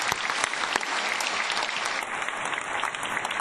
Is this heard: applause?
yes